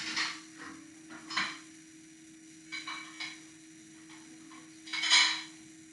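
Dishes and cutlery clink while banana bread is plated in a kitchen: a series of short, close clatters and taps spaced irregularly over several seconds, ending with a louder clink, no talk.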